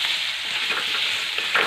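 Steamed cauliflower being stirred into a dry curry in a hot pan with fresh coriander, giving a continuous close sizzle with soft scraping stirs.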